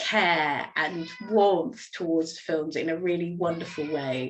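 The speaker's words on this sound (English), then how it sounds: "You might be able to hear my cat in the background" A cat meows in the background, faint and intermittent beneath a woman's continuous close speech.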